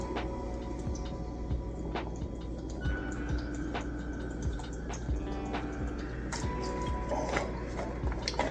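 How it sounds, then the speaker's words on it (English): Water is poured or drawn for a drink. Soft drips and clicks fall in an irregular rhythm over a steady low hum, with no one talking. "Right now I'm just gonna grab me some water real quick."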